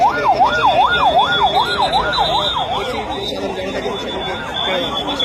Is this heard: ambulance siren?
yes